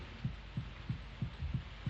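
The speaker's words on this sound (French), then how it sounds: "une utilisation parfaite du son, de ce battement de cœur oppressant" An oppressive, slow heartbeat effect from a French film thumps steadily about three times a second, each beat a low muffled throb over a faint hissing background, with no voices.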